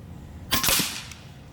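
A Gen 3 Benjamin Marauder air rifle fires a 15.89 grain Hades exploder pellet, one sharp close crack with a short tail and a faint impact just after.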